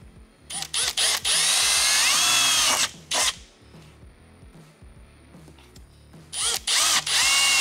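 A power drill with a 2.5mm bit drills holes for a snorkel install on an N80 Toyota Hilux, giving loud high-pitched whirring bursts that start and stop in three runs, separated by quiet gaps.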